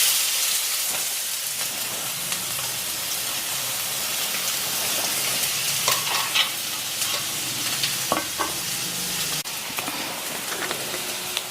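Steady, loud sizzling of finely chopped onions frying in hot oil, a continuous crackling hiss with occasional sharper pops, no voices.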